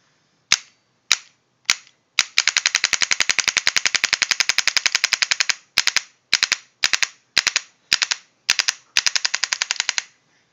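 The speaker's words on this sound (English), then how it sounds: "let's see how easy it is to ramp this gun" An Azodin Blitz paintball marker fires in PSP ramping mode: a few spaced single shots, then a long rapid burst of sharp pops, followed by several shorter bursts, loud and close with no voices.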